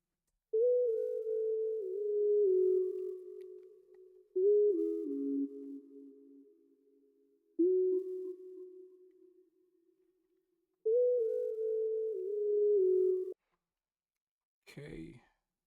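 Synth lead playing a melody for an R&B-flavored beat in a remix, heard as four sustained, gliding phrases separated by short gaps, each fading out, followed by a brief percussive burst at the end.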